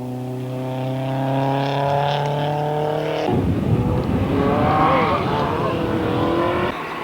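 A hot Mini rally car at the 1992 Repco Mountain Rally gives a steady, tonal engine drone, then bursts into a loud, broadband roar of engine and gravel as it passes close by.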